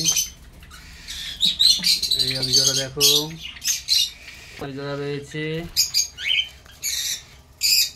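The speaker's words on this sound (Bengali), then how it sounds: "আর এই দেখো এগুলো বদ্রি পাখি, এগুলো বদ্রি।" Budgerigars in a home aviary squawking and chirping in busy, overlapping bursts close by, with harsh nasal calls and quick twitters, while a person talks between them.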